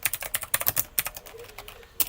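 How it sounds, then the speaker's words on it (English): Rapid clicking keystrokes on a computer keyboard, close and clear, with uneven bursts of taps running continuously for about two seconds and no talking. "Give me 49 seconds of typing."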